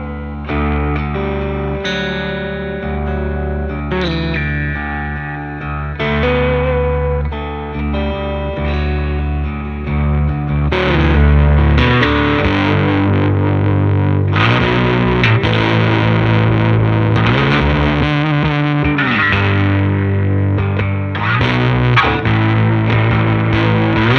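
Softly picked electric guitar through a Black Bobbin boost pedal, a long run of sustained notes and chords with a chorus-like sheen. It grows slightly louder and fuller partway through and plays alone with no talking.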